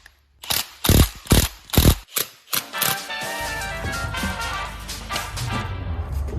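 A screw is driven into the hub cover of a giant RC monster truck, a burst of several close, loud ratcheting clicks followed by a sustained mechanical whir.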